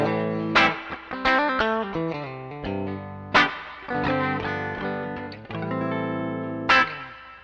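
A Firefly FFDCS double-cut electric guitar plays clean chords and single notes through spring reverb into a Joyo American amp, tone and volume full up, with sharp attacks that ring out and shimmer, and no talk.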